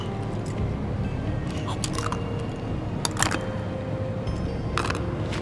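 A chow bean is chewed and crunched in a few soft, close bites over steady background ambience, with no talking.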